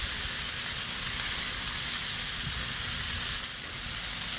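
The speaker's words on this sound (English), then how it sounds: "I'm going to get my grilled onions going down." Grilled onions sizzle on a Blackstone griddle as a steady, close hiss that runs unbroken for the whole stretch and dips only slightly near the end, with no voices.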